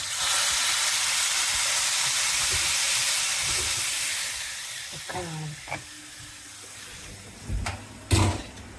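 Asafoetida and red chili powder tipped into hot ghee for kadhi, loud broad sizzling and hiss that gradually fades, followed by a few clinks and stirring knocks.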